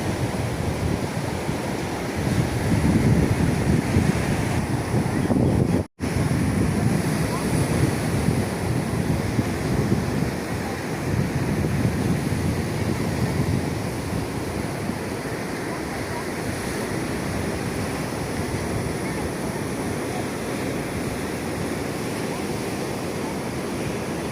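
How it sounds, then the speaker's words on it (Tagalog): Wind and surf churn loudly during Typhoon Inday, a continuous roar of waves and gusting wind buffeting the microphone close by, with a brief dropout partway through and no clear talking. "Mao na ang bagyong Inday."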